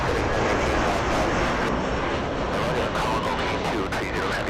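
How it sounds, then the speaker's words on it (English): An Air Canada airliner passes near Los Angeles airport with a loud, steady broadband engine roar that holds throughout, and a voice speaks faintly beneath it. "That's a fancy Air Canada flight."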